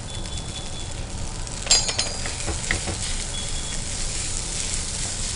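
Beans, carrot, grated boiled potato and paneer frying on a tawa give a steady low sizzle, with a brief clink of a utensil near the start and light scraping as the mixture is stirred.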